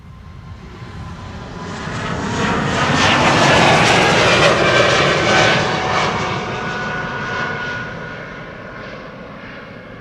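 A Bombardier C-Series 300 jet departs Amsterdam Schiphol, its engine roar swelling loud over several seconds, peaking mid-passage, then slowly easing as it climbs away, with no talk.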